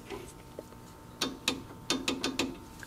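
A torque wrench tightens the rocker arm bolts on a Beck 550 Spyder replica's engine head, giving short close clusters of crisp metallic ratchet clicks with no talking.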